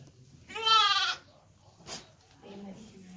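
Native Nati breed sheep on a farm near Mysore, where they feed on neem leaves, give one loud, clear bleat close by. A softer sound follows, and faint voices come in toward the end.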